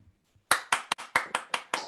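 Seven sharp hand claps ring out in a quick, slightly uneven rhythm, close and crisp after a brief near-silence.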